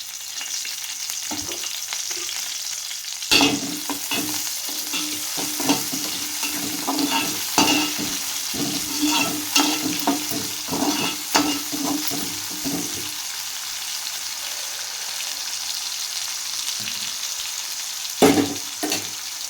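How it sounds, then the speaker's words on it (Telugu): Chopped onion pieces fry in a pan for an eggplant, drumstick and dried shrimp curry, a continuous close sizzle with repeated scraping stirs and occasional sharp clinks, and no talk. "ఉల్లిపాయ ముక్కలు వేసి ఎర్రగా ఫ్రై చేయాలండి"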